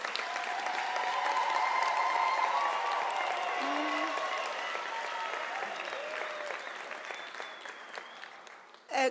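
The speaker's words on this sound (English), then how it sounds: "can you give our graduates a round of applause" Audience applause at a University of South Africa autumn graduation ceremony, sustained loud clapping from a large crowd with some cheering and ululation-like tones, fading slightly toward the end.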